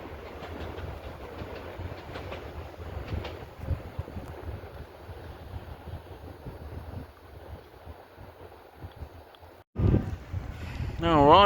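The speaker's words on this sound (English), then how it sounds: "Now arriving is the Mayflower to Plymouth, the 1445 service from London Paddington" A double set of 5-car IET trains on the Mayflower service to Plymouth pulls into Taunton station with a low rumbling roll and rhythmic wheel clatter, moderately loud. Near the end, a voice speaks and a horn-like tone sounds.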